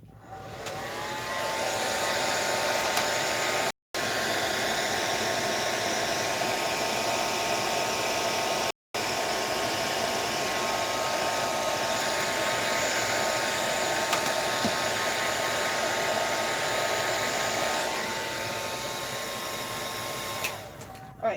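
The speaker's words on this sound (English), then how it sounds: "And let me dry real quick. Let me get the dryer out." A handheld hair dryer blows on paint in a coloring book, giving a loud, steady, close whir that runs almost the whole time. It cuts out briefly twice, then winds down at the end.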